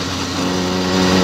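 A motorcycle engine settles after the throttle is released, giving a steady, close, unbroken drone with no voices over it.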